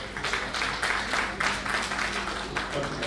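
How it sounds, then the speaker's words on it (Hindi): Dense, continuous applause from an audience in an auditorium at an awards ceremony, a steady wash of many hands clapping with a low hum underneath and no voices on top. "तालियों की कमी ना पड़े"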